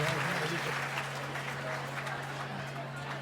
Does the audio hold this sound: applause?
yes